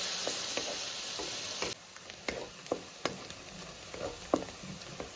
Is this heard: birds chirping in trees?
no